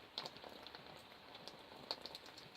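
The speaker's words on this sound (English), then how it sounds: "the rain stopped now. Pretty much, it's just drizzling now" Light drizzle falling after a rainstorm, a soft continuous patter of drops on surfaces with a few sharper drips, close by and quiet.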